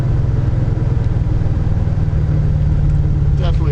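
Supercharged 1997 Ford Mustang Cobra engine revving hard under acceleration, a loud, steady low rumble that holds throughout with a rising whine near the end, close to the car.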